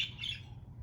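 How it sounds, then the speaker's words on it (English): A pet bird gives a quick pair of bright, close chirps over a low background hum, then goes quiet. "she likes to chirp back at her own voice"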